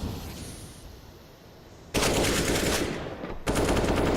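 Sustained automatic rifle fire from a suppressed M4A1-S in a Counter-Strike match, quiet at first, then two loud, dense bursts near the listener with a short break between them.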